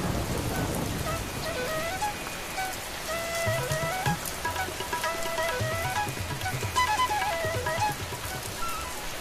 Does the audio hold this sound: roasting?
no